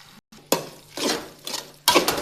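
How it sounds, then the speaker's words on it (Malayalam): Crushed green chili, ginger, garlic and shallots drop into a biryani pan in several separate clattering bursts of scraping and stirring against the metal, with no one talking. "ഇതിൻ്റെ അകത്തേക്ക് നമ്മൾ ചതക്കി വെച്ച പച്ചമുളക്, ഇഞ്ചി, വെളുത്തുള്ളി, ചെറിയുള്ളി ഒക്കെ ഇതിൻ്റെ അകത്തേക്ക് ഇടാം"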